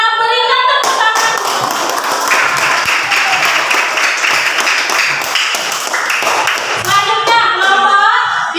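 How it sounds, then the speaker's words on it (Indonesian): A classroom of students clapping after a group presentation, loud close rapid hand claps for several seconds, framed by brief voices at the start and end. "Ya, kita berikan tepuk tangan."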